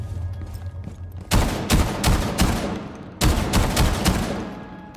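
A video-game shotgun fires in two rapid bursts of loud, closely spaced blasts, separated by a short lull over a low background hum.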